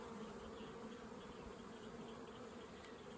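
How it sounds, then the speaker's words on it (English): Dense honey bees buzzing on a hive frame of newly emerged bees, a continuous, even drone heard up close throughout, with no talking. "A lot of fuzzy bees, there's a lot of bees on this frame that's just emerged."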